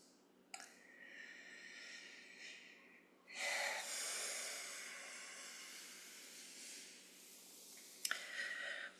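Deep breathing during a restorative yoga stretch, with slow, close, airy inhales and long hissing exhales, three or four breaths with a short sharp sniff near the end.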